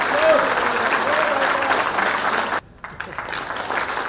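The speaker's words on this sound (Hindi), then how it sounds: "जोरदार तालियों से" Loud crowd applause at a Jharkhand Administrative Service Association event honoring the state's Chief Minister; steady dense clapping breaks off briefly midway, then resumes more thinly.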